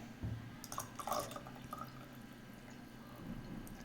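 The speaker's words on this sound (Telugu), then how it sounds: "అండ్ దెన్ ఇప్పుడు మనం కూల్ వాటర్ మిక్స్ చేద్దాం," Cool water is poured into a sugandha drink mix, giving a quiet trickling and splashing fill with a few brighter drips and clinks in the first half, then fading to a soft wash.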